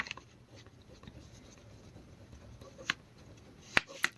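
Pen or chalk writing on a board during a geometry lesson on right-angled triangles, faint scratchy strokes with a few sharp taps near the end, quiet and close with no voice over it.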